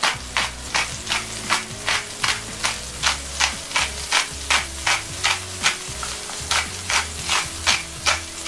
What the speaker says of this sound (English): I'm just going to give these a good grind on each burger.